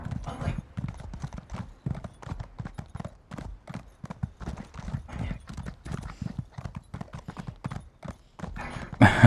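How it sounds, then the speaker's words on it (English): Horse hooves clip-clopping along a road in the video game Elder Scrolls Online, a fast, steady run of close hoofbeats, with a brief louder burst at the end. "Just hop on our horse and we'll go ride down the road."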